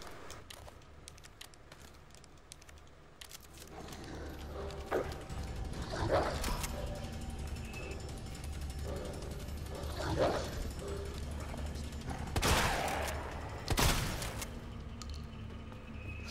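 Zombie dogs in Resident Evil 2 Remake barking and yelping in a few separate bursts over a low mechanical rumble, moderately loud and fairly close, with one burst late on the loudest.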